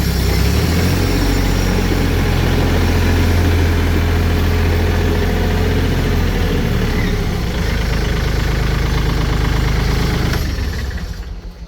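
A used 2021 Kubota L4018SP tractor fitted with a front blade and rotary tiller idles loudly up close, its low diesel rumble steady and continuous before easing off at the end.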